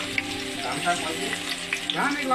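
Green chili, onion and chopped garlic frying in oil in a pan for a dried fish dish, giving a steady close sizzle with a few faint clinks throughout.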